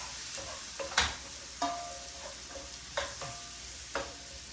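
Shallots and mushrooms stirred in a pan: a faint low sizzle under a few distinct spoon scrapes and taps spaced about a second apart, no voices.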